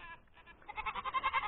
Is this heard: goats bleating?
yes